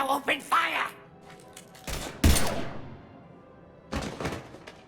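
Loud gunfire and heavy impacts erupt in the Mass Effect Legendary Edition video game, a few sharp bursts amid game dialogue and voices.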